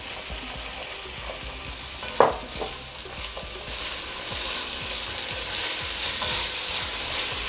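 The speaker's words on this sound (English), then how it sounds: "I'm going to put a little oil in the pan, let it get right. So I am going to drop my herbs in here" Onion, parsley, green onion and garlic hit hot oil in a pan, a bright close sizzle with one sharp crackling burst early on, followed by steady frying and soft stirring scrapes, no voices.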